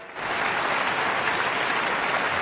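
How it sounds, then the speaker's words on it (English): Audience applause for a guest mediator at a debate event, a dense, even roar of clapping that starts abruptly and holds steady with no voices over it. "I'd like everyone to give a round of applause for Matthew."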